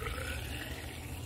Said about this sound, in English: Put some water in it. We're going to fill it up.